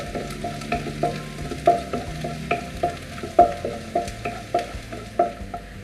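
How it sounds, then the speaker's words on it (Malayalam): Ginger and garlic hit hot oil for a restaurant-style gobi manchurian, making a close sizzle broken by rhythmic scraping strokes of a spatula stirring the pan, repeated about every half second, with no voices. "ആദ്യമേ ഞാൻ ഇഞ്ചിയും വെളുത്തുള്ളിയും കൂടി ഇട്ട് കൊടുക്കുകയാണ്"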